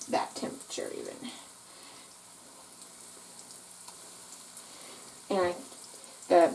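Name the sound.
oysters frying in oil in a large square pan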